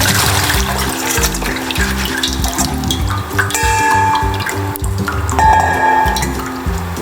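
Salt brine drains off fruit for candied karanda, giving a steady rush and splash of running water with some trickling and clatter from a sink or container, close and fairly loud, without speech.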